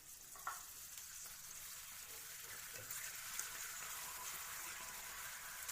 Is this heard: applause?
no